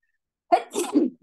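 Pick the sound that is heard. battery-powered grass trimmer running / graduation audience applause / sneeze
sneeze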